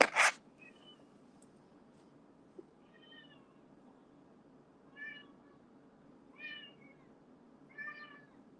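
A cat meows four times, short clear cries spaced a couple of seconds apart in a quiet room, after a brief sharp noise at the start.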